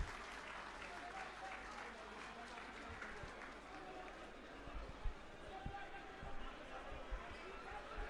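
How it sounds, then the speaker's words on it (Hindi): An outdoor political rally crowd at Jantar Mantar in Delhi breaks into applause, a fairly quiet, continuous patter of clapping with a few sharper claps and scattered background murmur. "आतिशी जी के लिए जोरदार तालियां।"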